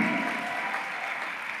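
A church congregation applauds to acclaim Jesus, a dense, loud burst of clapping that fills the moment and tapers slightly as it continues.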